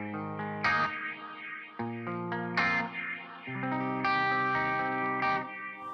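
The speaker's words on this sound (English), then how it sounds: "into the Love Beams, Cosmic Echo Unit by Otis Effect" An electric guitar plays chords through a Cosmic Echo Unit echo pedal by Otis Effect on a doom-style pedalboard, with a swirling modulated tone and echoes sustaining between strums, loud and alone.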